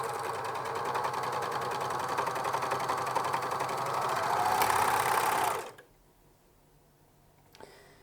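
A sewing machine joins turtleneck cuffs with a fast, even stitching whir that runs for about five and a half seconds, then stops abruptly. A faint click follows in near quiet.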